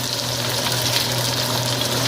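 Rohu fish pieces fry crisply in hot oil, a steady close sizzle with continuous crackle that holds at an even level throughout, with no talking.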